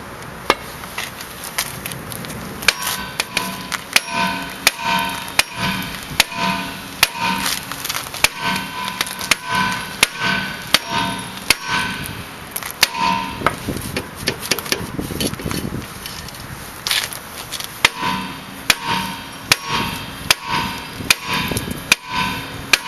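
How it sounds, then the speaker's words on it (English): Repeated heavy hammer blows strike a stuck brake drum on a Chrysler, sharp metallic whacks landing at an uneven, steady pace for over twenty seconds, close and loud. "You're gonna have to take out the bigger hammer."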